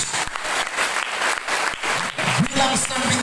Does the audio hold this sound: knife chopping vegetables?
no